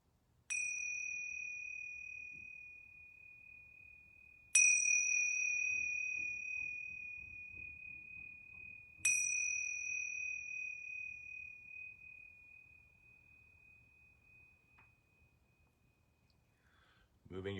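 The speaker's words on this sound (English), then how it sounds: "I'm going to ring these yoga bells 3 times." Three yoga bells struck one after another at a slow, even pace, each ring a clear bright tone that lingers and fades before the next, in a quiet indoor room with faint background rustle.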